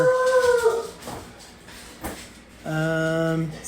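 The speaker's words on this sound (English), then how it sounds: "Sorry about the dogs." Pet dogs in a home kitchen howl and whimper, with one long drawn-out howl at the start, a quieter whiny stretch, then another sustained howl near the end, loud and close.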